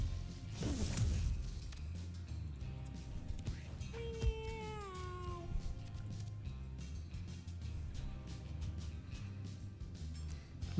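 A cat meows once in the video game Mewgenics, a brief rising-then-falling call heard over steady game music and background noise.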